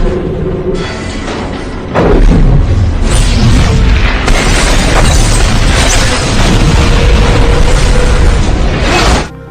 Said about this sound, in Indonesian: terdapat ledakan dahsyat di mana-mana